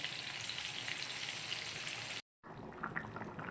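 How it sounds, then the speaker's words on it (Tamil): Rock fish curry bubbles steadily in a pot, a dense close-up sizzling and boiling hiss that cuts out briefly and then resumes. "நல்லா குழம்பு கொதிக்குது"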